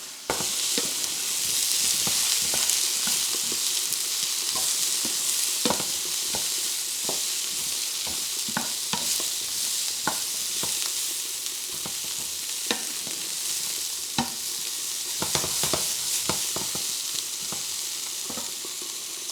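Broccoli and caramelized onions fry in a hot pan for beef and broccoli, a steady loud sizzle with frequent sharp crackles and stirring clatter, no voices.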